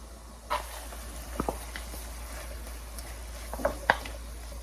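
Ground beef, carrots, potatoes and green peas sizzle softly in a home pan, a steady quiet frying hiss broken by a few sharp scrapes and clinks of stirring.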